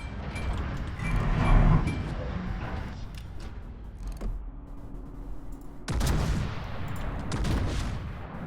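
Heavy naval guns boom in World of Warships, with rolling gunfire blasts around the start and a second burst of loud broadband shots later, over a continuous mechanical rumble.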